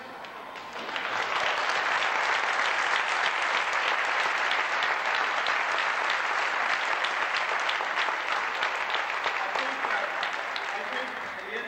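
Sustained audience applause at a 1989 high school awards evening for student recipients, a dense, even wash of many hands clapping that swells in and holds steady for several seconds before slightly easing.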